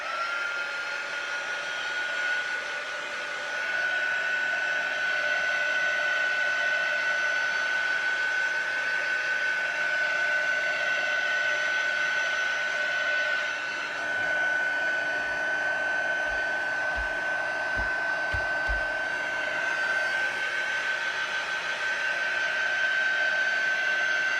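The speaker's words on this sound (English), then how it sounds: "now I'm going to grab the heat tool" A heat tool drying an embossed journal page blows a steady, loud, high-pitched whine with a rushing airflow hiss. It runs almost unbroken throughout, with a few faint low thumps near the end and no talking.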